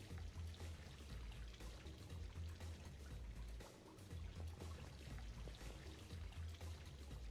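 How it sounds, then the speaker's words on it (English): Running water in Mass Effect Legendary Edition, a soft continuous pouring and trickling flow with small splashes, faint and even, with a brief dip midway and no talk. "I don't know if I would enjoy just hearing the sound of running water all day,"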